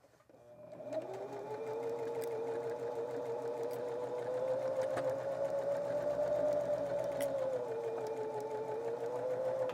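A sewing machine stitches a seam on a log cabin quilt square made from scraps, starting up quickly and then running as one steady, close, continuous whir for several seconds with no pauses.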